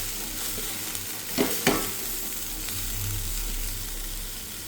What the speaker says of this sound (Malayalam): ഇനി ഈ അരപ്പിനെ നമുക്ക് നന്നായിട്ടൊന്ന് മിക്സ് ചെയ്ത് ആ പൂവായിട്ട് യോജിപ്പിക്കാം.